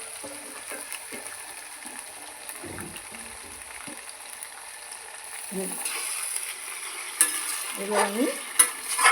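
Meat tipped into a pan of reddened, fried onions and stirred, sizzling steadily with scraping strokes, louder clatter near the end, and someone talking briefly at the start.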